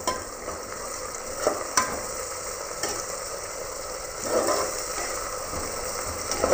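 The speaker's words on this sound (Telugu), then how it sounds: "ఇవి మంచిగా బ్రౌన్ కలర్ వచ్చే వరకు ఆయిల్లో ఫ్రై చేసుకుందాం" Two large onions fry in hot oil in a pan for Natu Kodi pulusu, a close, continuous sizzle and hiss. Occasional scrapes and taps of a stirring spoon cut through the sizzle.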